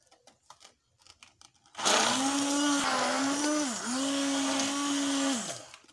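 An electric mixer starts up after a quiet stretch and beats cake batter with vanilla, a loud steady whirring hum that dips briefly in pitch near the middle, then cuts off toward the end.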